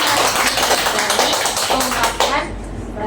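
A group claps hands during a psychiatric nursing class presentation, a steady dense patter of close applause with voices talking underneath, fading out near the end.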